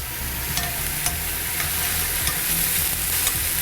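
A splash of white wine hitting a hot pan with a beef bourguignon sauce, giving a steady, close hissing sizzle with soft taps of stirring throughout.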